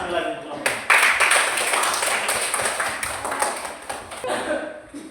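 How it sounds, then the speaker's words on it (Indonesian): A classroom group claps for presenting classmates in a brief, dense burst of applause that fades toward the end, with voices mixed in. "tepuk tangan sekali lagi untuk kelompok"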